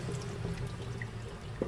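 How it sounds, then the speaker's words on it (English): Water from the first rinse of three rice cooker cups of rice being poured off and discarded, a steady close trickle and splash running throughout with a small clunk near the end. "Now, the first rice rinse, you should discard the water."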